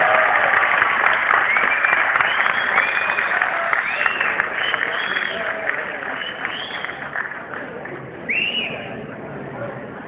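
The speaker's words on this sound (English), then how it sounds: "Put your hands together for them." Applause from an audience at a quiz final, loud at first and gradually thinning, with whistles and cheers rising above the clapping.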